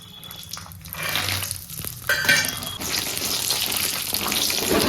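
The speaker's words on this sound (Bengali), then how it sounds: "এবার বড়ি কটা ভাজবো" Sun-dried lentil dumplings (bori) fry in a pan, giving a watery, bubbling sizzle that grows louder and denser after a short clatter of stirring.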